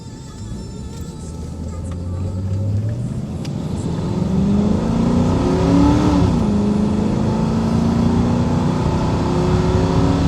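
A car travels a bumpy road in Jamaica, its engine rumbling steadily and rising slightly as it picks up speed, with road noise building through the ride and no talking.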